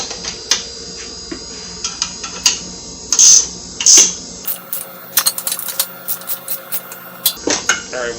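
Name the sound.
tightening bolts on a Jeep Wrangler receiver hitch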